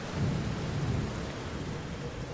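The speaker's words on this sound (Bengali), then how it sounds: "এখন বৃষ্টি পড়ছে মুষলধারে।" Heavy downpour with rumbling thunder, a dense steady roar of rain under a low rolling boom, loud and close, with no voices.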